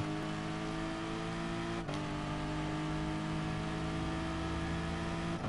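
A racing car engine in GT Sport drones at a steady high pitch with harmonic whine, briefly dipping then holding its revs, with no voices over it.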